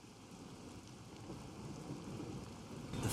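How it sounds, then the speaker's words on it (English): Steady, soft video game rain hisses without a break, with a faint low rumble under it and no voices. "melts against the sound of rain."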